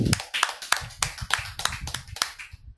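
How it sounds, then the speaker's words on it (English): A small group claps in quick, uneven bursts, close and fairly loud, the claps tapering off toward the end. "give a big round of applause for Kiran Sai."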